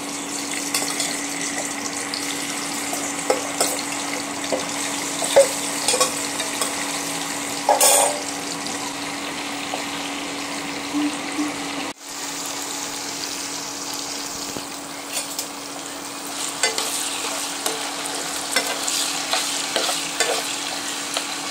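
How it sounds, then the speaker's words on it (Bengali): Food frying in hot oil on an induction cooker gives a loud, continuous crackling sizzle for the whole stretch, with a faint steady hum beneath and no talking. "তো এখন আমি এগুলো ভাজতে বসেছি। মা গ্যাসে রান্না করছে, তাই আমি ইন্ডাকশানেই করে নিচ্ছি ভাজাগুলো। এখানে তেল গরম হচ্ছে।"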